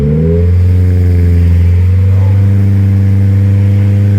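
A loud car engine is held at high revs, around 3,000 RPM, during a street decibel test. It makes a steady, close, powerful drone with a slight lift partway through, and no talking.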